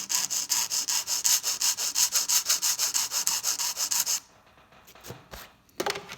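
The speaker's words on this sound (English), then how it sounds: "this is just rough filing" A nail file rough-files a long squared sculpted acrylic nail in a fast, steady run of close, loud back-and-forth rasping strokes that stops abruptly, followed by a few faint scrapes and taps.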